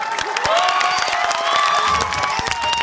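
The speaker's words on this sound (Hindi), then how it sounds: "पीछे वाले लोग अच्छा काम कर रहे हैं, तालियां बजाकर।" At a poetry gathering, an audience breaks into lively clapping and cheering, with sharp scattered claps over a bright wash of crowd noise and a few whistle-like tones, all fairly close.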